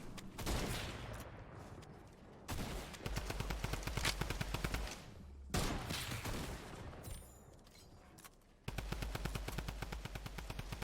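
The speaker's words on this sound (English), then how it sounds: "Man, drum gun is so good." Rapid bursts of drum gun fire in Fortnite, a fast, dense rattle of automatic shots in several long volleys separated by brief pauses, loud and without talking.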